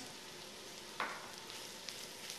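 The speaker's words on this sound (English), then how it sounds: "I'm going to saute them for about 2 to 3 minutes until they are soft" Mushrooms and softened red peppers sautéing in a pan give a steady, quiet sizzle throughout, with one brief clatter of stirring partway through.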